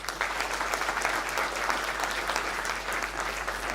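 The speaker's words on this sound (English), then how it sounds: "Give yourself a big round of applause." Graduates and guests at a Chennai college convocation applaud the graduating class, sustained dense clapping from a large crowd filling a hall, loud and unbroken throughout.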